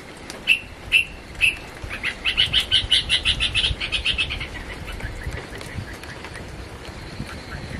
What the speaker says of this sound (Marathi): झाडावर एक पक्षी ओरडतोय, नेमका कोण आहे ते काय कळत नाहीये.